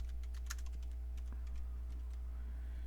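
Typing on a computer keyboard to enter a name in VirtualBox, soft key clicks in an irregular run over a steady low hum, close and fairly quiet, no speech.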